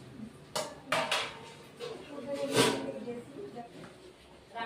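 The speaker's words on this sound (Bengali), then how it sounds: "আবার 5 মিনিটের জন্য ঢেকে দিই।" A lid goes onto a cooking pot of vegetarian potato, pointed gourd and chickpea dal, with a few close metallic clanks and scrapes while someone talks throughout.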